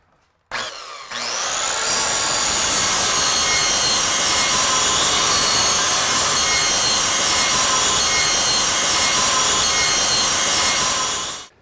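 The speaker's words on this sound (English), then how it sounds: "we're going to show you how to cut it really easy with a skill saw" A circular Skil saw cuts through a clamped UltraBaseSystems panel: the blade spins up sharply, then holds a loud, steady, close whining rip for about ten seconds before winding down.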